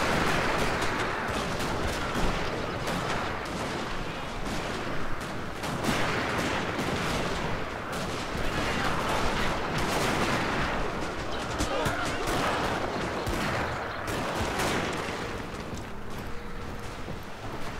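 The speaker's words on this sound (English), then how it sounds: "Go ahead and give you a close-up on their troops getting shot to crap" Dense musket gunfire from troops being shot in the battle game Shogun 2, a continuous crackle of overlapping shots with heavier booms and a busy battlefield din, loud and unbroken.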